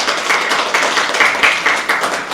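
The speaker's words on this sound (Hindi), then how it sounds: "आप सभी से अनुरोध को एक बार जोरदार तालियों के साथ उनका स्वागत करें" Audience applauding to welcome a chief guest at an event, loud close clapping from many hands with a lively, pulsing rhythm.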